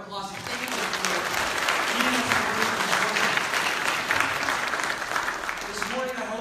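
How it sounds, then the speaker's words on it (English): A Baptist church congregation at Highfield Baptist Church bursts into steady, full applause that holds throughout, with faint tonal voices surfacing briefly beneath the clapping. "Give them all a round of applause."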